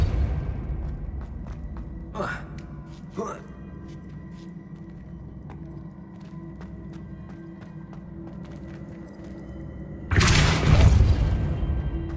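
A Confringo fire-blast spell in Hogwarts Legacy bursts as a loud, roaring explosion lasting about a second near the end, after a stretch of quiet game ambience with a couple of faint whooshes.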